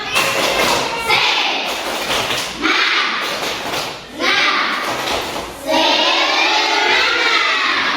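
A fourth-grade class doing the 'tepuk semangat' clapping routine, bursts of loud clapping and thumping from many children, with the children chanting and a teacher speaking between bursts.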